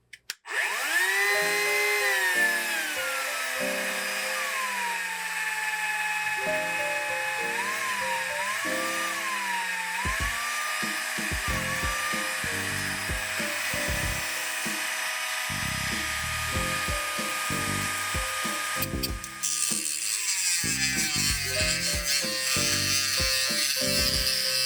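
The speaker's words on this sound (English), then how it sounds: "I've got a rotary tool Dremel. This is a knockoff of a Dremel, but same idea. With a cutoff wheel on here." A knockoff Dremel rotary tool fitted with a cutoff wheel spins up to a high, steady whine, then cuts in a series of short bursts that shift in pitch, ending with a sharper grinding stretch.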